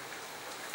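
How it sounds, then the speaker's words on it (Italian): Rain falls steadily outside, a faint continuous hiss of drops on a surface with one slightly louder patter near the end, heard alone. "sentite la pioggia?"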